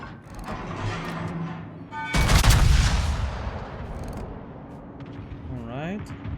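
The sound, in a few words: warship guns firing HE shells, World of Warships video game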